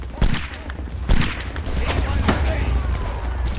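Musket volley fire in the video game Napoleonic Wars, Spain versus Italy, with several sharp cracks and rolling booms spread across the moment over a constant battlefield din, while a voice speaks over it.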